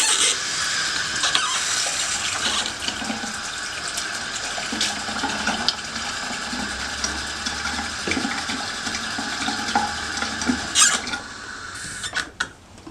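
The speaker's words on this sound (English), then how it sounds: "I'm just going to wet my skin one more time" Tap water splashed onto the face to rinse off a Moroccan red clay facial mask, a continuous close splashing and trickling wash with irregular wet patters, no talking.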